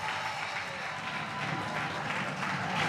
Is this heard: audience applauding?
yes